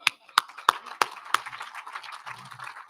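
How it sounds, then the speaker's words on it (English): A few sharp, separate claps from an audience at a celebration, five distinct hits spaced evenly over the first second and a half, then trailing off into scattered softer pats. "I just wanted to give them one more round of applause."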